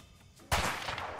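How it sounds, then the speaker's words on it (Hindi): A single sharp gunshot in a video game cracks out after a short quiet stretch, then fades with a brief reverberant tail, fairly faint overall. "कितनी गोलियां वेस्ट करेगा वो"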